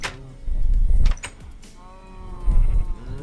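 Sheep bleat in the game Minecraft, two wavering calls a couple of seconds apart, close and fairly loud, with low thumps and game noise between them.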